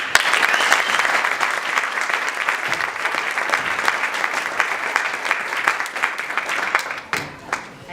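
An audience at a graduation awards ceremony applauding, dense sustained clapping from many hands that fills the room and then thins out into scattered claps at the end.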